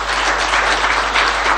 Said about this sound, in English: you have to clap like your life depends on her. Clap more.